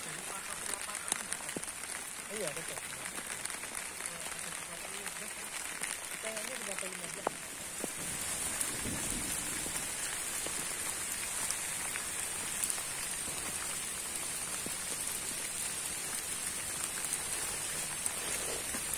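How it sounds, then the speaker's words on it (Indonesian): Rain falling steadily during a mountain hike on Mount Sindoro, a dense hiss of drops hitting nearby surfaces, with some talk underneath. "Ini hujannya datang lagi ya bro."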